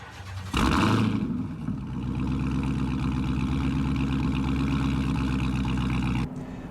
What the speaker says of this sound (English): This car is completely stock besides a Borla exhaust, which sounds freaking phenomenal.